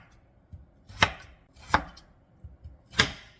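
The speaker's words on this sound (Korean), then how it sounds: "최대한 일정하고 얇게 채 썰어주세요." A knife cuts half a radish into thin, even strips on a board, giving three sharp, crisp chops close by with softer taps between them and no talking.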